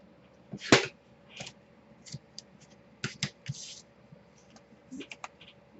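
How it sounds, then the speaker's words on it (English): Double-sided score tape is peeled and pressed onto the back of a paper piece for a mini album. Short, close crackling peels and light taps come in scattered bursts against near silence. "So I'm just going to use some score tape on the back side here."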